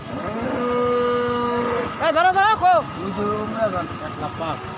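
A Red Sindhi cow moos loudly nearby at a village cattle market, a long drawn-out call followed by a few shorter broken lowing sounds, with crowd noise behind.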